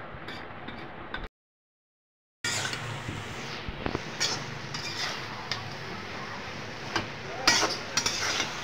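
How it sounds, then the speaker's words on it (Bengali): A pot of prawn and taro-stolon curry is stirred with a metal spoon, with scattered clinks and scrapes against the vessel, a brief silent gap, then more clattering as the lid goes on, nearby and without speech. "এখন আমি সুন্দর করে নেড়ে ছেড়ে ঢেকে দেব।"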